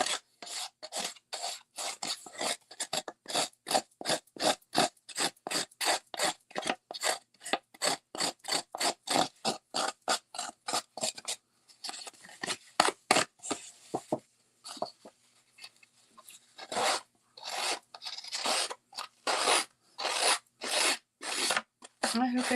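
A tool rubs rapidly back and forth across paper to distress inked edges, a close, crisp rasping in fast regular strokes that pauses briefly and then resumes in shorter, uneven bursts, with no talking.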